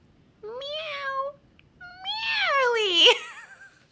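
A human voice imitates a cat meowing, giving two drawn-out whiny meows, the second longer with a rising and falling pitch, loud and close with no other sound.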